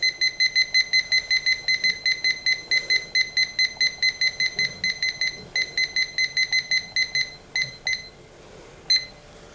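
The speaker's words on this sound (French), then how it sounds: "Mon mari m'a réparé mon minuteur." A kitchen timer beeps in a steady run of short, bright electronic pulses while it is set to 40 minutes, the pattern briefly broken near the end, close and clear with no talking.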